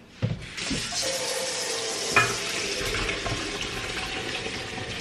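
Cooked food drained under a running kitchen faucet, a steady broadband rush of water into a sink with a brief clatter near the start and a small knock midway, continuous and close.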